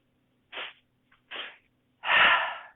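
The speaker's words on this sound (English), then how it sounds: "and then exhale through the mouth" Breathing exercise from a beginner chair yoga class: two short sharp inhales through the nose followed by a longer, louder exhale through the mouth, close and alone.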